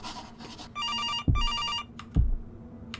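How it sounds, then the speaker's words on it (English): A telephone rings in the horror video game September 7th, with two bright, electronic ring bursts in a row, each followed by a dull thump, against a quiet, low hum. "Answer the phone."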